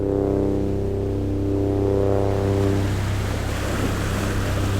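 Ocean waves at Patenga sea beach roar in a continuous broad wash, with a steady low engine drone underneath, probably from a motorboat, that fades as the surf takes over.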